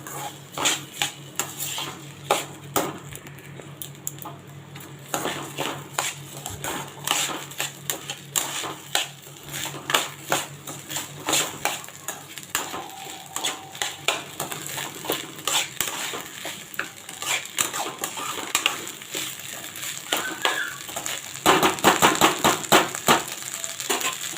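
Rice being stir-fried in a pan for pulao makes a continuous, fast clatter of scraping, ticking and crackling that stays at a steady level throughout, with no talking.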